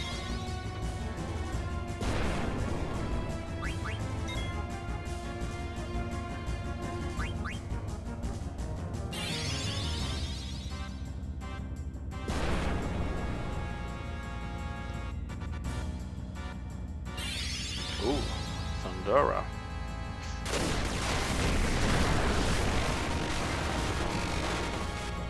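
A Fire spell cast in Final Fantasy IX aboard a cargo airship, heard as loud crackling bursts and whooshes that erupt several times over continuous game music.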